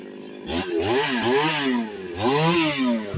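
Chainsaw cutting through logs, its engine revving up and down in close, loud surges with harmonic pitch sweeps as the blade bites into the wood.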